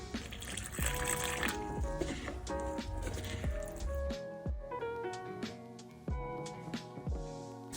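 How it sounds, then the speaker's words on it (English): Water is poured and stirred into a concrete mix for candle jars, giving steady wet sloshing and scraping with repeated small knocks and splashes, moderately close and with no talking. "now I'm gonna start adding my water"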